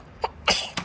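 A single sneeze, close and fairly soft: a short inhaling catch followed by a sharp burst and a small trailing puff.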